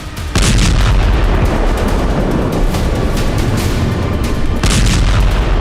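A loud, sustained roar of blast and rumble with several sharp bursts cutting through, as an Israeli missile strikes a building in western Gaza at midnight, echoing across a wide area.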